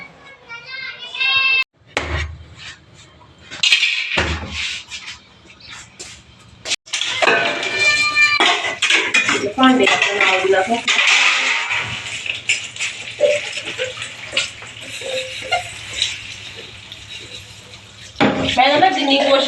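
Dishes clatter and clink in a kitchen sink with running water, under loud talk from children and adults nearby.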